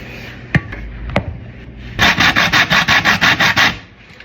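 A ball of Jamaican chocolate is grated for chocolate tea, two sharp knocks first, then about ten rapid rhythmic rasping strokes against the grater, close and loud.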